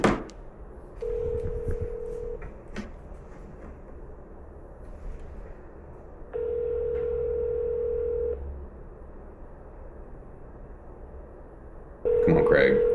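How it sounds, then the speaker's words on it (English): An outgoing phone call rings out with a steady ringback tone, heard as three evenly spaced tone bursts of about two seconds each against a faint background hum. "I know you see that phone ringing."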